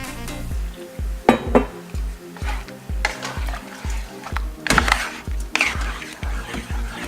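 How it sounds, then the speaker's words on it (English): A spoon stirs milk into a roux in a pot with steady rhythmic scraping and soft clinks against the metal, along with a faint sizzle from the cooking. "Just add a little bit at a time and then stir it into the roux."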